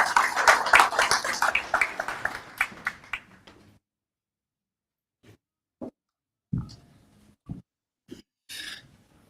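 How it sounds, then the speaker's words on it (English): An audience at a government programme handover ceremony claps in a dense burst that fades out within a few seconds, followed by scattered, isolated claps. "Let's give him a round of applause"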